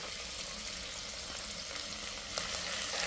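Mixed vegetables sizzling in a little oil in a pan for a millet bisi bele bath, a steady close hiss of frying with a faint scrape of stirring, no voices.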